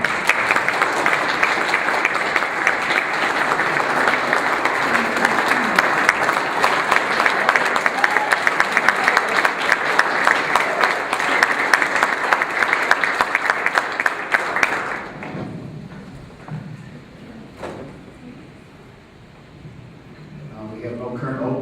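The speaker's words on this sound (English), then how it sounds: "we give you a round of applause" A round of applause at a town council meeting in Schererville, steady crowd clapping filling the room for about fifteen seconds before fading into quieter room sound.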